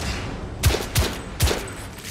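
Gunshots in the video game The Order: 1886, three sharp close shots fired at an even pace over steady low background ambience.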